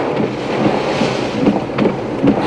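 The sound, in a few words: strong typhoon wind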